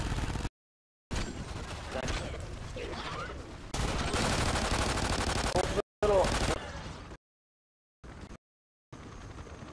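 Turret fire in a shooter video game comes in loud, rapid machine-gun bursts broken by sudden dropouts to silence, with voices talking over parts of the shooting.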